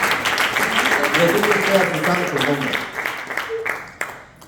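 A church congregation claps hands, scattered and fairly close, under a preacher speaking loudly.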